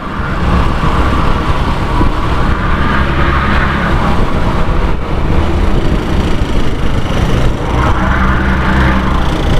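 Continuous loud road and engine rumble from inside a moving vehicle following behind a truck, steady throughout with broad wind-like noise.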